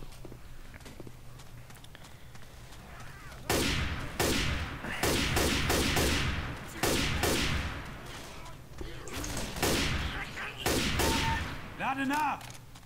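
Bursts of rapid gunfire in the video game Left 4 Dead 2 crackle in loud clustered volleys after a quiet start, with footsteps and voices talking among the shots.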